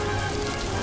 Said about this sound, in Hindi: धीरे धीरे करके बारिश बहुत तेज हो जाती है